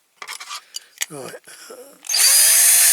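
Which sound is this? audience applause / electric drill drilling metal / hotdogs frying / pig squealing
electric drill drilling metal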